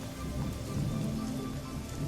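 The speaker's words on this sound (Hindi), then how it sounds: "घर में तो जंगल से भी ज्यादा बारिश हो रही है" Steady rain falling, a soft continuous patter with a low rumbling undertone, no voices.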